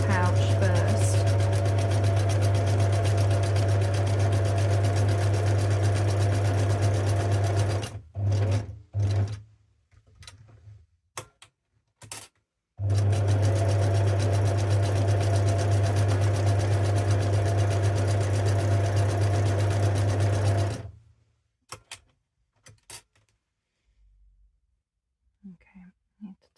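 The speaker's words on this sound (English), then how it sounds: "if you just want to sew your basic pouch first" A sewing machine stitches a fabric pouch, running in two long steady loud stretches with a strong low hum, broken by short stops, clicks and handling noises, and some quiet whispering near the end.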